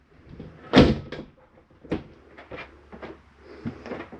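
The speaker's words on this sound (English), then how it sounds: "Shower door, you want that latch closed for traveling." Shower door latch in a Jayco Eagle 306RKDS RV being shut, a sharp click-thud followed by several lighter knocks and rattles spread across a few seconds, close and dry.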